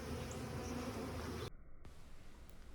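Bees from two packages hum and buzz steadily during a hive installation, a dense close drone that cuts off abruptly partway through, then carries on more faintly.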